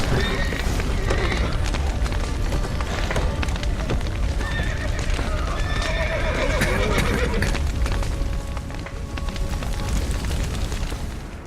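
Horses neigh and whinny over a steady clip-clop of galloping hooves in the Witcher 3 video game, with loud continuous rumbling and booming underneath and no voices.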